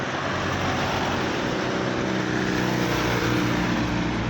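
An old bus engine drones steadily with a low, even rumble under broadband road noise, continuous and close throughout, with no voices.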